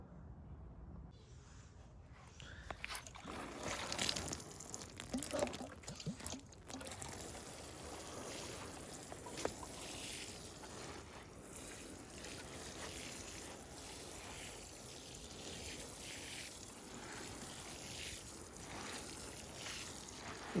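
Water poured by hand in a small home garden splashes continuously nearby in a steady, noisy rush that swells briefly early on, with no clear talk over it.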